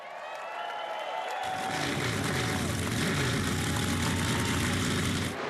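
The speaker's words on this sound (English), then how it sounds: "Drivers, start your engines." Race car engines of the NASCAR Xfinity Series fire up at a superspeedway in Nashville, Tennessee, in the field before the Tennessee Lottery 250, building from a faint hum into a loud sustained roar of many engines at once.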